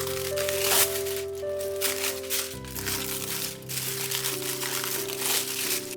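Plastic packaging is peeled and crinkled off a chilled homemade Vietnamese banh mi ham: a close, continuous crackling and rustling with sharper crunches, all over soft background music.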